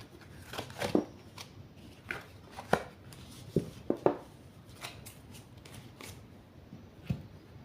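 Belline oracle cards being shuffled by hand, a run of soft papery riffles and flicks at irregular intervals, close and quiet, with no speech.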